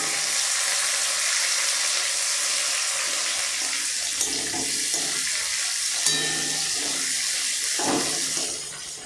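Onion and tomato frying together in a pan for a Bengali pangas catfish curry: a steady, close hiss of sizzling oil runs throughout, with a few soft clinks and bubbling pops in the middle, and no talking.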